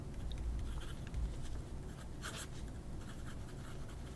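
A Pilot fountain pen with a fine nib writing on paper, faint scratchy strokes over a low background hum.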